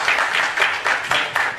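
Audience applause at a public arts, culture and history workshop, a steady wash of clapping with slight swells, no voices over it.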